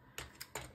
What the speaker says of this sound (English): she takes packing tape, just like this, packing tape, and kind of just scrunches